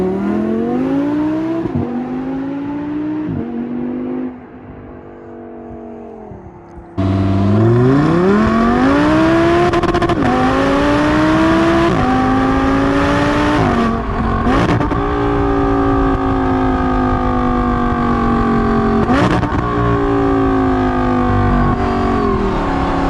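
An Audi R8 V10 exhaust, loud and close, idles with a rough burble, drops briefly, then revs hard in repeated rising sweeps with crackles between, a sharp high-pitched wail sustained throughout.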